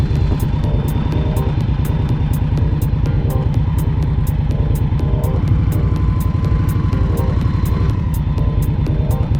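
An Indian Scout Bobber motorcycle engine rumbles steadily and close at crawling speed of a few miles an hour, a continuous low throb with a faint regular ticking over it.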